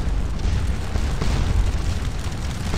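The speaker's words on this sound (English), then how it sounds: "On the left flank, the cannon fired, their round shot screeching low over the attacking 4th Salesian Landwehr." Cannon fire in the Napoleonic battle game Scourge of War: Waterloo, a rumbling low roar of guns and battle noise that swells and surges throughout, heavy and continuous rather than crisp single blasts.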